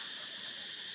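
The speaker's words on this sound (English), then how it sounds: "And all I can hear is crickets or something in the background." Crickets chirp at dusk near Angkor Wat in Cambodia, a steady, high, shrill trill that stays faint and unbroken throughout, with no voices.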